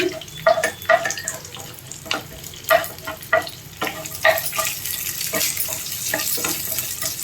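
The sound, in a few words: spices frying in a pan on medium heat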